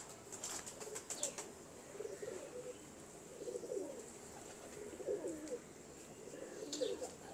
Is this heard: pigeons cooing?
yes